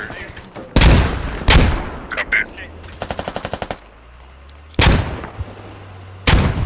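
Video game firefight with grenade explosions and gunfire: sharp booming blasts, a rapid burst of automatic fire, and scattered shots, loud and close, separated by quieter gaps with low engine-like hum.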